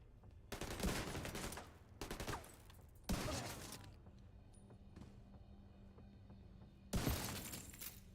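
Gunfire in a video game with a sniper build: four loud bursts of rapid shots, each lasting about a second, separated by quieter pauses with faint background noise.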